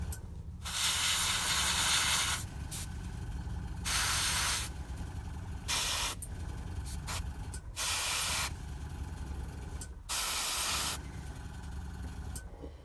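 An airbrush sprays paint onto a miniature in several steady hissing bursts of a few seconds each, separated by short pauses, close and clear.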